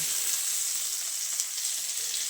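Curry leaves and other chutney ingredients, tomato and dried red chillies among them, frying in hot oil make a steady, close, bright sizzle that holds throughout with no talk.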